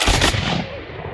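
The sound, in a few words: garrison reenactors firing a volley of guns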